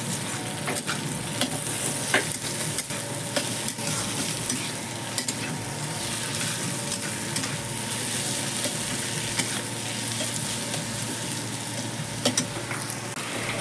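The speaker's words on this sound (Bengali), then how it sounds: "আর একটু ভালো করে কষানোর জন্য রাখবো।" Onion, garlic, tomato and ginger masala fries in a pan with a constant dense sizzle, a spatula occasionally scraping through it; close and steady throughout, no talking.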